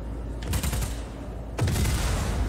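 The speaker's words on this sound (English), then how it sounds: "That's a serious explosion." Two loud booming blasts in Just Cause 4, the first near the half-second mark and a bigger one about a second later, with crackling rumble continuing after each.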